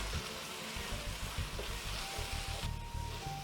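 Chili con carne with cayenne pepper sautéing in a pan. A soft, steady sizzle with low rumbling stirring underneath is heard, fairly quiet and even, with no one talking.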